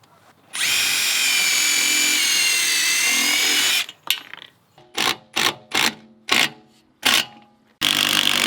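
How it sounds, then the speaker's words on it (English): A power drill drives screws into a wood deck board: one long, loud, steady whir, then a quick series of short bursts with brief pauses between them, close by. "we're gonna start by putting the front screws in first."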